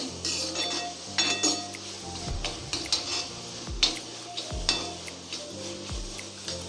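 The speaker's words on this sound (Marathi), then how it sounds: "टोमॅटो व्यवस्थित नरम पडलेला आहे। व्यवस्थित परतून घेतोय आपण हे।" Tomatoes for Malvani-style prawn masala being sautéed in a pan over low heat, with a soft sizzle beneath repeated light clinks and scrapes of a spoon against the pan, steady and close.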